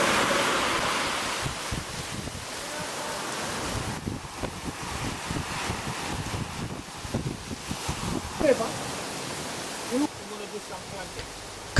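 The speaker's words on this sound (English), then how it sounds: "the ocean." Ocean surf rolling in outside a simple beachside room in Fiji, with wind buffeting the microphone; a steady broadband wash of waves runs throughout, with faint voices briefly audible near the end.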